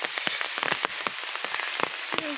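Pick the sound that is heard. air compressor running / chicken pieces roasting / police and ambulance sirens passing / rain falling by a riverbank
rain falling by a riverbank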